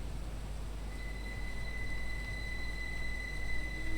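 A Train Sim World 2 train, reskinned in Arriva Trains Wales livery, rumbles along on its own with a low, steady hum, faint rail noise and a couple of thin sustained whines.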